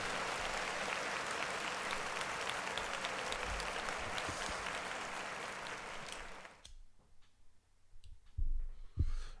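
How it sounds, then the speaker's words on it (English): An audience at a Rolling Loud California hip-hop event claps and cheers in a dense, sustained roar that cuts off abruptly, leaving a few scattered claps and thumps. "Clap it up for one more."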